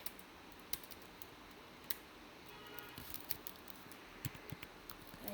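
Light, quick keystrokes on a computer keyboard while editing thumbnail text, an irregular pattering of faint, close clicks with small pauses, quiet against a soft room hiss.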